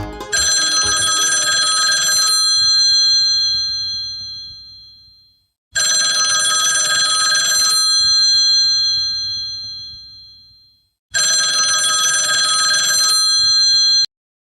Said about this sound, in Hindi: अरे अकबर साहब, आप किसी और को फोन उठाने क्यों नहीं देते?